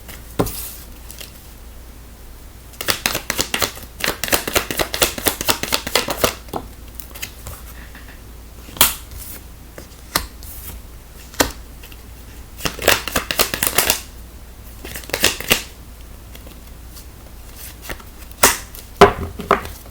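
A deck of tarot cards being shuffled up close in bursts of quick riffling and flicking, separated by quieter pauses, with no speech over it.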